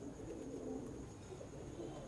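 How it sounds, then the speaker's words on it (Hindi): Low, soft cooing from Mistri teddy pigeons, a fancy breed kept by a pigeon fancier, murmurs steadily and faintly against a constant background hum. "ये जी मिस्त्रियों वाले ही कबूतर हैं, टेडी, ठीक है जी।"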